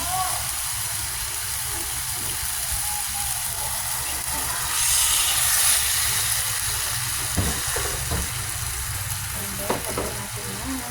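Chicken pieces frying in a pan for chicken sinampalukan, a steady loud sizzle and hiss with stirring scrapes, a brief louder surge midway, no voices.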